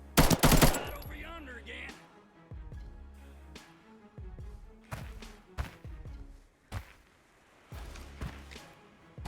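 Saiga shotgun gunfire in the video game Arena Breakout, heard as a loud close burst at the start and then several sharp, spaced shots and thuds further off, over a low game ambience.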